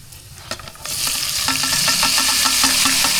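A pink salmon head sautéing in a hot pan, starting with a few clatters and then settling into a steady loud sizzle with rhythmic stirring scrapes.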